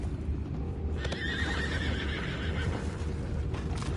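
Horses whinny loudly over steady hoof clip-clop in a Red Dead Redemption 2 game scene, with a low rumbling ambience running beneath throughout.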